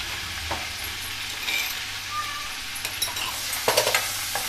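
Garlic and two green chilies sizzle in hot oil and butter in a pan, with a steady frying hiss and occasional stirring scrapes, close and moderately loud.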